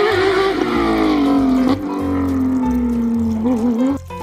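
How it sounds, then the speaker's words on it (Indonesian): A toy race car plays its electronic engine sound, a loud continuous whining tone that slowly falls in pitch over a pulsing low rumble, close and steady. "Yang ini mobil balap."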